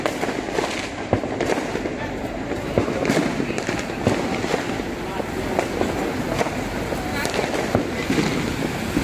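Dense, rapid crackling pops of firecrackers going off continuously on New Year's Eve in Makassar, loud and close, with wind buffeting the microphone throughout.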